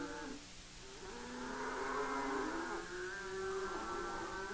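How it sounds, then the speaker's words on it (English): A herd of half-wild cattle on a trail in Paraguay lows and moos, with long, drawn-out calls overlapping at a moderate distance against a faint background hiss. "The cattle graze and rest during the night, but at daybreak, the herd is on the trail once more."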